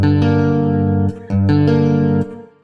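Electric guitar chords ring out through effects, a couple of sustained strums with a brief break between, processed and slightly distorted.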